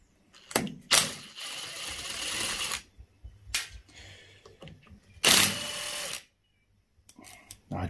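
Cap head bolts are whizzed out of a Warn winch motor casing with a power tool, heard as several short bursts of buzzing, close and loud, separated by quiet gaps.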